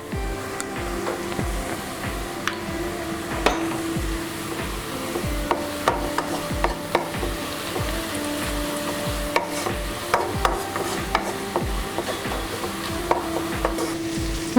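Turmeric being stirred into onions frying in a pan for spicy methi chicken: a steady, rhythmic scraping of a spoon against the pan over constant sizzling, close and continuous throughout.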